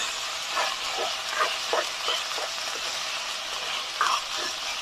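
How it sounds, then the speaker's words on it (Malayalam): Jeera rice gets stirred in a pot, a series of soft, repeated scraping strokes in an uneven rhythm over a steady hiss of steam and sizzling, close and moderately quiet. "ഇനി നമുക്കിതൊന്ന് ഇളക്കി കൊടുക്കാം."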